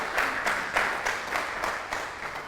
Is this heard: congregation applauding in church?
yes